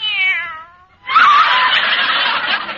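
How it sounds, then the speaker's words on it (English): A cat meows in a radio comedy set at Thanksgiving, starting with a drawn-out wavering mew, then after a short pause a louder, hoarse, sustained yowl that lasts to the end. "Oh, there you are, you cute little kitten."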